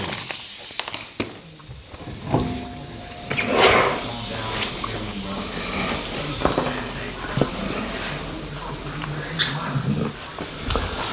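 Compressed air hisses steadily from a leaking quick coupler on a workshop air line, a continuous breathy leak with a few faint knocks and tones underneath.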